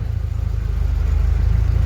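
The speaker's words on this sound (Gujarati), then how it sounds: "અમારી ગાડી રવાના થાય છે અહીંથી" A goods vehicle loaded with cumin sets off for Unjha. Its engine throbs loud and close in a steady, pulsing low rumble throughout, with no voices.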